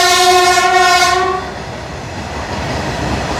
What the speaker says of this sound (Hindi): इधर एक फ्रेट ट्रेन क्रॉस हो रही है